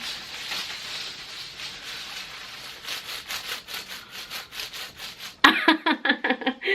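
Heavy oversized T-shirt covered all over in disc sequins, shaken and handled close by, giving a rhythmic scratchy rustle that grows louder and crisper toward the end, with no talking.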